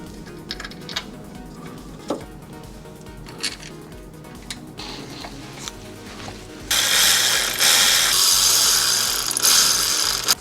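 A ratchet tightens the water pump bolts on a Peugeot/Citroën TU engine, giving scattered clicks and mechanical clinks close up, then a louder sustained rapid ratcheting run in the last few seconds, with no talking over it.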